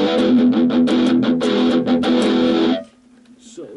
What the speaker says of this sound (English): But this is just normal overdrive.